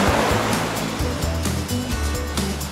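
Sea waves in Nha Phuong bay, a wild bay ringed by rolling mountains, wash loudly and continuously close by, a steady surf roar with no voices.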